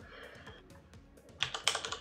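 Fingers type a push message on a computer keyboard in a quiet room: faint taps at first, then a quick, louder cluster of close keystrokes.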